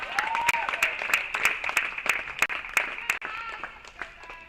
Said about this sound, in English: You hear the crowd in the background.